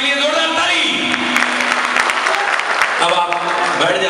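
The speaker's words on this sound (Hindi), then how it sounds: "जोरदार ताली" Audience applause for a senior guest at a comedy show, steady dense clapping throughout, mixed with voices and crowd noise.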